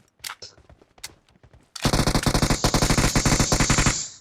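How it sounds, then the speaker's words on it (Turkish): Gunfire in the PUBG battle royale video game: a few scattered single shots, then a sustained rapid automatic burst with evenly spaced loud cracks, up close and without talk over it. "Oğlum kim sıkıyor öyle lan?"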